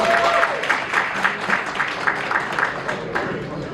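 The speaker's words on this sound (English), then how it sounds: "So give them a round of applause." Applause from the audience at a community documentary screening, moderate and steady, with a hum of crowd noise and faint voices beneath the clapping.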